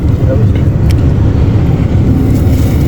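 A car drives along, its engine giving a low, steady rumble heard from inside the vehicle, with people talking over it.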